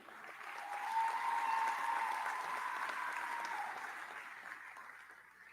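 An audience at a Penn State Altoona convocation gives warm applause to welcome a student speaker, a steady wash of clapping that swells in the first second, holds evenly, then tapers off near the end.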